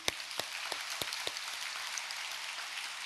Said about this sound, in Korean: 전체 수고하신 분들께 감사의 박수를 부탁드립니다